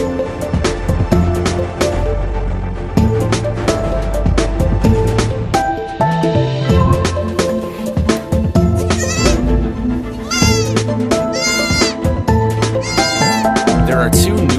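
Two newborn baby goats in a goat barn bleat repeatedly in high, wavering cries over a background of music, loud and close.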